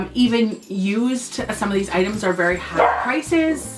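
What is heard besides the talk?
dogs barking in the background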